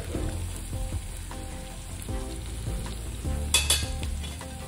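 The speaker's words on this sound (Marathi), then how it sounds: "मस्त असं तडका पण देऊयात आपण" Spices such as turmeric, red chilli and garam masala sizzle steadily in hot oil over a low flame for a tadka, a close, continuous frying hiss with light stirring clatter and a brief louder spatter near the end.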